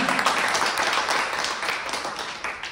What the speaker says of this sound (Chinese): 我们用掌声欢迎王馆长